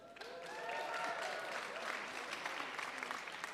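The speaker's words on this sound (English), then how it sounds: "You all are allowed to applause." Sustained applause from a congress audience at a large political gathering in Lyon, a steady wash of many hands clapping at moderate level throughout, with faint background chatter.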